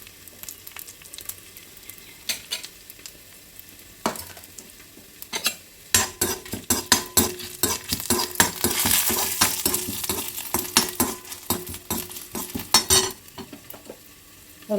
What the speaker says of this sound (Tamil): கடுகு, கொஞ்சமாக உளுந்து, ஒரு மிளகாய் கிள்ளி போட்டு தாளிச்சிட்டு